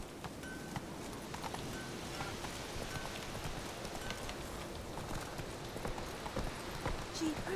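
Roach, Geralt's horse in The Witcher 3, trots with a steady clip-clop of hooves over a constant wash of rain, the hoofbeats fairly soft and even throughout.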